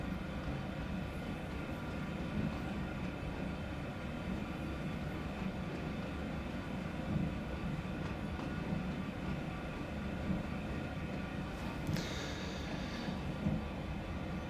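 GE C40-8W freight locomotive in Train Sim World 2 on Sand Patch Grade, a steady low diesel rumble and rail noise throughout, with a brief high hiss partway through.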